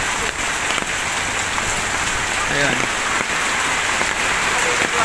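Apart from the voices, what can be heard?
heavy rain from typhoon Kristine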